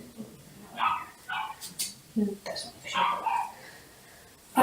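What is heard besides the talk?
dog barking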